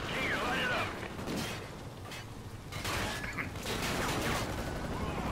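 Machine gun fire in Call of Duty: Ghosts, a dense, distant-sounding rattle of sustained gunfire mixed with booming battle noise, steady throughout with slight surges.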